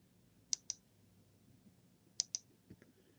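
Computer mouse clicks at a desk, two pairs of sharp, close double clicks in a quiet room followed by a couple of fainter taps.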